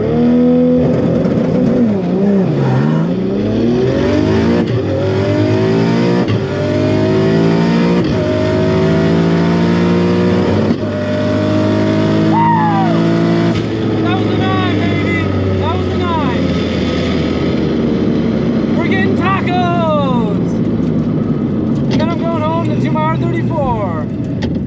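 A Barra-swapped Ford GT350 launches down a drag strip, its engine roaring loud and close, climbing in pitch through each gear with brief drops at the shifts, continuous for the whole run.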